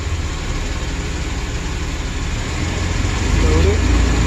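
A 2008 Chevrolet Express van engine with a lean misfire and fuel system fault runs steadily in drive, a continuous low rumble that swells slightly toward the end, with people talking over it.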